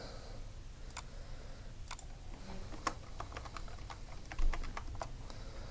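Computer keyboard keys tapped in an office setting while entering records, irregular clicks spread across the clip, moderately close over a steady low hum, with no voices.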